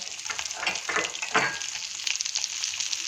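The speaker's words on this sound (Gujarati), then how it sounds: "મસાલાને આપણે થોડા હલાવી લઈશું." Masala with garlic, two or three green chillies and a large piece of ginger sizzles steadily in a hot pan while being stirred, a close, continuous frying hiss with occasional scraping movements and no voices.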